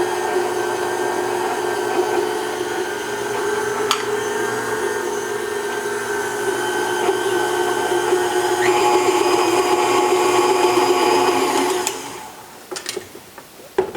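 Electric hand mixer blending cream cheese with powdered sugar in a bowl, a steady close motor whine with shifting tones running about twelve seconds, then stopping, followed by a few light clicks and taps.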